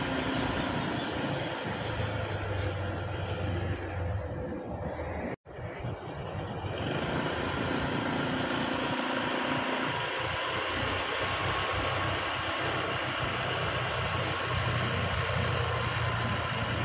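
A motorcycle engine idles nearby in a steady, continuous low rumble close to an abandoned bridge in Balagtas, Bulacan, with one brief dropout partway through and no talking.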